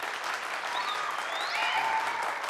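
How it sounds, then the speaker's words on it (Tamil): Studio audience at a Tamil TV comedy show bursts into steady, even clapping that holds for a couple of seconds, moderately loud and close with no voices over it. "ரசிகர்களே, உங்க கைத்தட்டல் தான் இந்த நிகழ்ச்சியவே கலக்குது."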